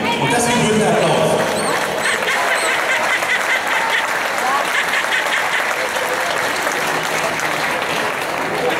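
Applause at an awards ceremony, dense clapping from a seated audience, loud and close, rolling steadily with a little laughter and murmuring mixed in before it thins slightly toward the end.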